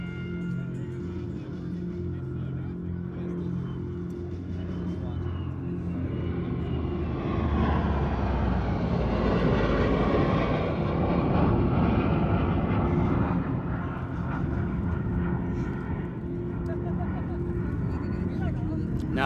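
A Heritage Flight formation of aircraft passes overhead at the Columbus air show, engine drone swelling to a steady loud roar and then easing, while an announcer talks over the crowd audio.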